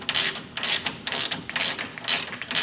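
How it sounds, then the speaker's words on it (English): A ratchet cranks down a lowering spring stud on a 1992 Ford Ranger with a 302 V8, loud close clicking bursts in repeated rapid strokes with short pauses between swings, no talking. "we are using a different ratchet to tighten it."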